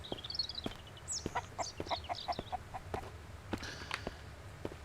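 A chicken in the survival video game Mist Survival clucks and squawks in a string of short, fairly close calls over a low background hum.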